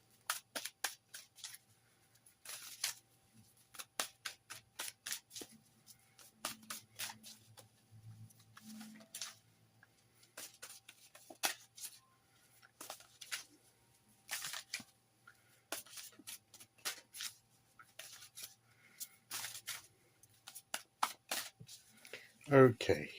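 Forest of Enchantment tarot cards shuffled by hand, a long run of quick crisp riffling and flicking bursts, close and intermittent, with brief soft pauses between bursts and a short voice near the end.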